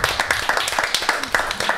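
Rapid hand clapping with scattered whoops from a small group at a prank show, fairly close and busy, with voices mixed into the clapping.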